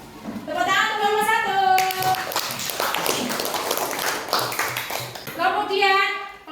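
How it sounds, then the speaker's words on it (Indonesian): Children in a classroom clap together for a group of classmates, a burst of brisk, close hand claps lasting several seconds between stretches of a voice speaking. "Tepuk tangan untuk kelompok"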